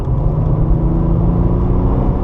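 Porsche 997 Targa 4S on the Circuit de Bresse, its engine giving a steady, close, heavy rumble as throttle is applied, with no talk over it.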